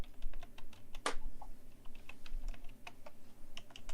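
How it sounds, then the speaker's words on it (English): A computer keyboard being typed on, with quick irregular key clicks and one sharper clack, close and moderately quiet with no speech. "I'm typing it in right now."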